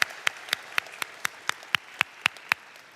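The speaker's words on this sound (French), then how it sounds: "Merci d'applaudir chaleureusement." At a university graduation ceremony, sharp claps land in a slow, evenly spaced rhythm, about a dozen crisp beats standing out over a quiet room rather than a continuous wash.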